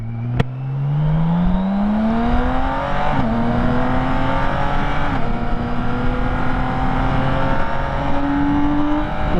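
A 2022 BMW K1600 Grand America touring motorcycle accelerating hard, its engine note climbing steadily through the gears in a loud, close run with brief dips at shifts, under wind rush.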